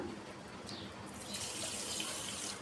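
Water pours steadily into a glass in a home kitchen, a continuous splashing rush that grows slightly brighter and fuller as the glass fills.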